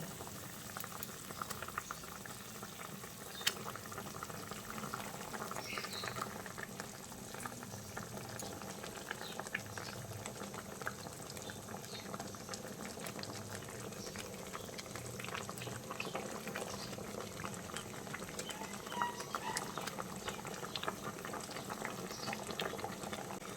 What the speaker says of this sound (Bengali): এখন বন্ধুরা, ঝোল খুব ভালোভাবে ফুটে উঠেছে।